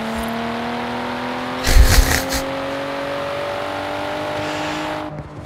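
Volvo V60 T6 engine in the racing game Forza Horizon 4, a steady droning hum that rises slowly in pitch, with a brief louder burst partway through, heard alone.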